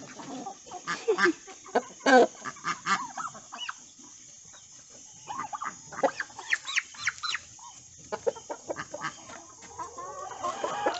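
Turkeys on a Brazilian farm give repeated close gobbles, clucks and throaty calls in uneven bursts, with quiet pauses between them over faint background hiss.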